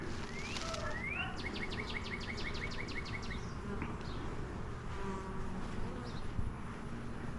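A steady, dense buzzing of many honey bees close by at an open hive during an inspection, with a few bird chirps sounding faintly in the background.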